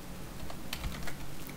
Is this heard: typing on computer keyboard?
yes